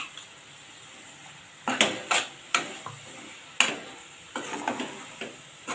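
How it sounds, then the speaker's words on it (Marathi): A ground paste of onion, coconut, ginger and garlic goes into a pot for a pavta-potato curry and is stirred in, giving irregular spoon knocks and scrapes over a faint background sizzle. "वाटण घालून आपण चांगलं मिक्स करून घेऊया"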